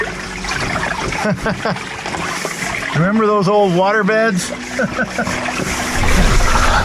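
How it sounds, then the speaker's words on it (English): Water runs into an AquaTank2 RV storage tank in the back of a truck, a continuous trickling, splashing flow under people chatting, with a nearer voice speaking in the middle. "but it's filling up. It's going to take a little bit to put, you know, 100 plus gallons in there."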